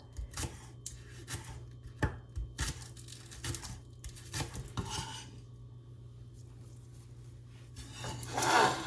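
Knife chopping scallions into small pieces on a board, a series of crisp irregular taps and scrapes, close and fairly quiet, ending with a louder rustle.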